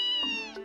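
A single cat meow, clear and close, with a rising-then-falling tonal cry lasting under a second in a video game scene.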